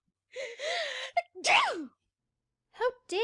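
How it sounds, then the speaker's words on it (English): A performer voices a duchess's gasp and a huge theatrical sneeze, loud and close and fully acted, then a shorter vocal sound after a pause. "Duchess gasps and gives a tremendous sneeze."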